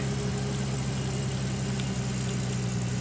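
A vehicle engine idles steadily in the video game Gold Rush, a constant loud low hum with a throbbing tone and no break, heard alone.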